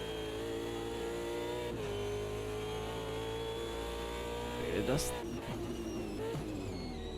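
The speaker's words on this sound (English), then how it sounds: "You can hear those rears just lock up and slide." V8 Supercar engines in Automobilista 2 racing at Bathurst, a steady loud engine drone under commentary, with a brief tyre screech and lock-up slide near the end.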